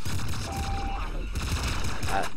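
Super shotgun blasts from the video game Nuclear Throne, a dense run of loud, booming game gunfire with a brief tonal whine, filling the whole short stretch alone without talk.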